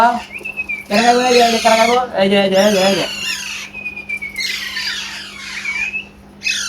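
Baby Alexandrine parakeet chicks squawk in loud, harsh bursts while being syringe-fed milk, several shrill calls in quick succession close to the microphone.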